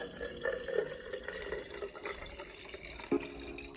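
Liquid is poured into a jar while preparing for a Halloween party, giving a faint trickling and dripping with scattered small glassy clinks and one sharper knock near the end.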